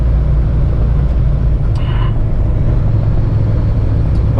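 A heavy truck at roughly 140,000 lb gross pulls up a highway hill, its engine a steady, loud low drone throughout with a constant broadband road roar.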